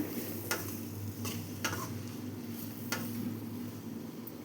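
Drumsticks and brinjal pieces being sautéed in a pan for sambar: a low, steady frying hiss with a few faint, sparse clicks of a spoon stirring against the pan, and nobody speaking.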